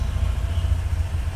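A Honda Vario 125 scooter engine idles while warming up, a low steady close putter with no talk.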